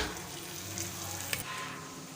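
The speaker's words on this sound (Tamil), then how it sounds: "பருப்பு முந்திரி பருப்பு எல்லாமே நல்லா வறுபட்டு வரட்டும்" Dal, cashews and curry leaves fry in a pan with a dense, steady sizzle, broken by a single brief stirring clink before the hiss carries on.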